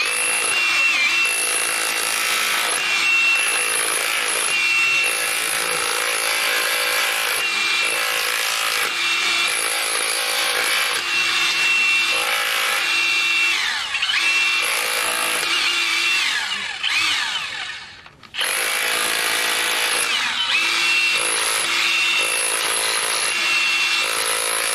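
A Hilti Nuron cordless battery-powered demolition breaker chips steadily at close range, loud and continuous with a rapid hammering buzz, pausing briefly near the end before resuming.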